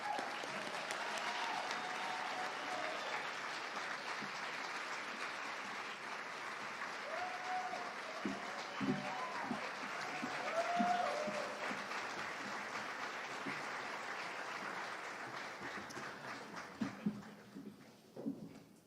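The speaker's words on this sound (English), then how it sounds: "That's one of your chances to clap." An audience applauds steadily in a hall as candidates for Oklahoma governor walk onto the debate stage. The clapping holds for nearly twenty seconds, with a few brief voices partway through and a handful of louder claps near the end.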